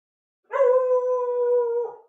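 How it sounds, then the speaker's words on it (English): A pet dog lets out a single long, steady howl lasting over a second, clear and close in an otherwise quiet indoor room. "There's my dog."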